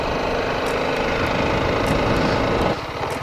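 An Apache RR 310 motorcycle engine runs close by with a steady, dense thrum near a beach, holding a constant level before dropping slightly toward the end.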